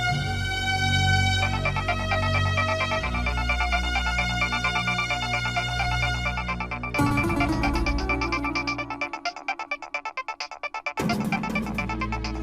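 A phone ringtone plays in a Hindi TV drama scene, a bright electronic melody repeating steadily and clearly for the whole stretch with no talk over it.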